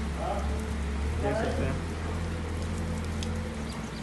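Heavy rain pours at a dairy farm with cows standing nearby, a dense steady wash of patter heard close, with a voice speaking briefly over it.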